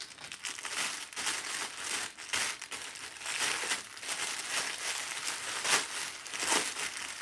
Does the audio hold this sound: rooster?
no